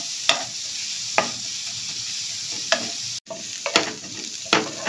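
Sliced onion sizzling in butter with a constant bright hiss, punctuated by occasional scraping knocks of a spoon stirring the pan, close up.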